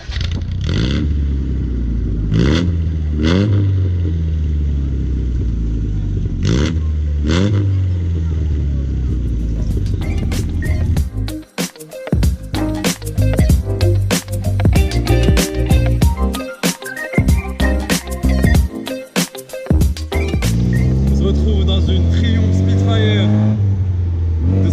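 A classic Triumph Spitfire sports car, 86 horsepower and under 700 kg, driven in Morocco. The engine drones steadily, then revs hard through repeated bursts of acceleration and gear changes, close and loud, with someone talking over parts of it.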